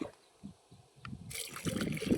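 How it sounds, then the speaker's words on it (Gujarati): Water is poured into a pesticide mixture, starting with a few faint splashes and drips before a louder gushing pour takes over. The sound is close and fairly quiet. "હવે આમાં આપણે પાણી નાખીને"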